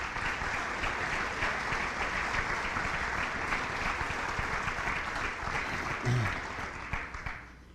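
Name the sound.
audience applause at hall of fame ceremony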